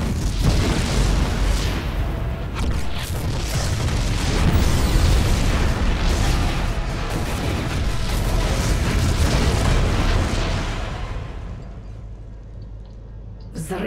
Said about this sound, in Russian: Взрывы утихли.